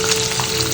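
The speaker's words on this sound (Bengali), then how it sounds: "মাছগুলো সব ভেজে নিচ্ছি।" Fish frying in a pan, a loud, dense, close sizzle of hot oil spitting steadily throughout a brief moment with no voices.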